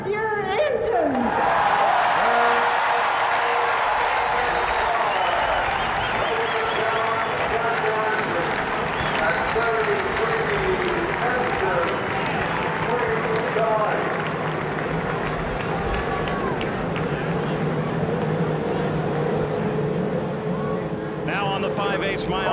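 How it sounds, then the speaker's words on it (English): Thirty-three IndyCar race car engines start and roar together on the main stretch at Indianapolis Motor Speedway before the 1995 Indianapolis 500, a loud sustained massed drone with crowd noise blended in throughout. "the engines begin to roar as all 33 respond to Mary Holman's command."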